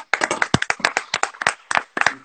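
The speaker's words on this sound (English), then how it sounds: "That's a round of applause." A few pairs of hands clap in quick, uneven bursts close to the mic, with short pauses between claps, heard alone without speech.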